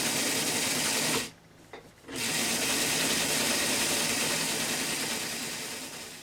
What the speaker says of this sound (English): So now I'm just going to sew this